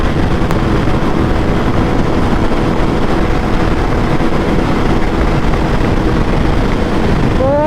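A KTM Duke 390 motorcycle runs at speed on an open road into a strong crosswind, its engine hum buried in steady, loud wind roar that never lets up.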